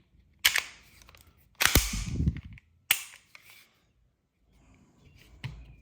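A Canik TTI Combat pistol being reassembled, with three sharp, loud metallic snaps of the slide going back onto the frame, followed by softer rattling and a faint final click, close up and without talk.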